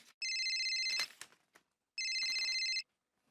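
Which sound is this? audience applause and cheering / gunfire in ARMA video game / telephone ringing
telephone ringing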